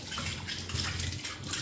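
Water splashing and scooped by hand from a bucket at home, a steady wet sloshing with small drips, close and fairly loud throughout with no voices.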